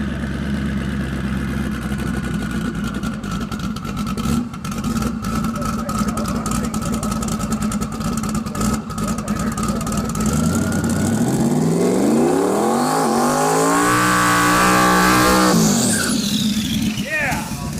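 A Mustang race car idles with a rough, lumpy burble on a track sprayed for grip. Then it revs hard and launches, its loud engine note sweeping sharply upward as it accelerates away, while voices talk in the background.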